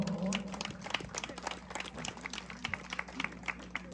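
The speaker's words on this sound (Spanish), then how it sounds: "Brindemos un fuerte aplauso para Yasmín," Guests at an 18th birthday party applaud for Yasmín, a scattered round of claps under music and chatter, fairly faint and uneven.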